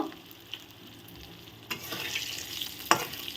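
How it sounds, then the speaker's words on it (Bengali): Pointed gourd and Gobindobhog rice frying together in a pan, steady sizzle with scraping stirs and clicks, the frying growing louder and brighter as the rice goes in partway through. "তো এখন এর মধ্যে আমি দিয়ে দিব গোবিন্দভোগ চালগুলো এর সাথে আমি সুন্দর করে"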